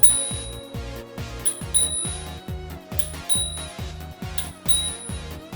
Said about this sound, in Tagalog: pwede rin kayong mag-bell